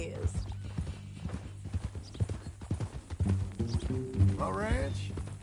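Hooves clip-clop at a steady walking rhythm from a mean-tempered new horse in a PS4 western game, moderately close, under ongoing dialogue and low background music, with a brief whinny near the end.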